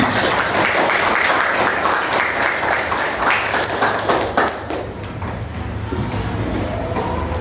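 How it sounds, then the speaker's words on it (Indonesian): Enthusiastic clapping from a group in an Islamic religious education class, loud and continuous before thinning and softening toward the end. "Tepuk tangan untuk kalian semua."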